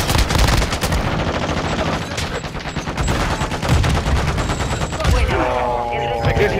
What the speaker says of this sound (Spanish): Se vienen los balazos aquí.